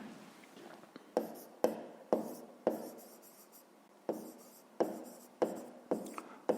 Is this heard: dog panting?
no